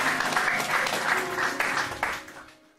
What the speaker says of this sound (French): Est-ce que tu peux simplement acclamer le Seigneur?